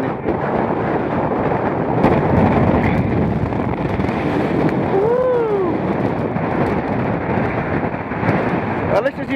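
Strong, steady wind roars across the microphone on an exposed fell summit by a stone shelter, a constant heavy buffeting rush, with a voice briefly heard through it.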